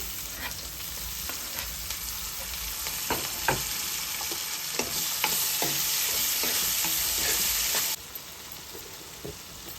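Thinly cut tomato pieces frying with onions and curry leaves in a pan make a loud, continuous sizzle with steady stirring scrapes, and the sizzle drops noticeably near the end.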